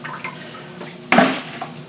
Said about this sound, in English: I'm draining the water out